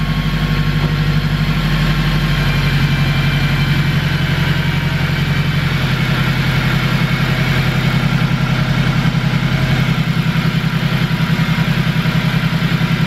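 A Honda Civic EK hatchback fitted with a K20 engine idles, giving a steady, even low hum that stays constant and fairly loud throughout, with no talking.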